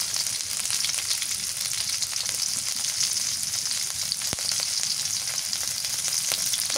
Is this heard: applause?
no